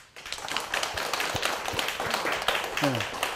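Temple congregation at a Buddha's Birthday dharma service claps together, a quick close patter of hand claps mixed with murmuring voices.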